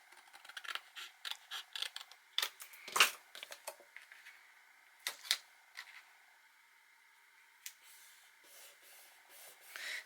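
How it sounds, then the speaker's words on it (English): Scissors snip paper in a quick series of short, crisp cuts, close by, with quiet gaps between the later snips. "So I might just use my scissors and just trim it just a smidge."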